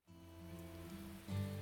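Rain falling around the Kisaragi dorm in the visual novel Baldr Sky Dive, a steady soft wash under a low sustained tonal music bed, with a slight swell near the end.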